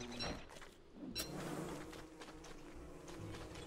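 Bees buzz continuously in the video game Don't Starve: Reign of Giants, a steady close insect drone with a few faint clicks and no talking.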